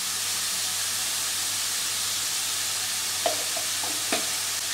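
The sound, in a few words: frying ash gourd with turmeric in a pan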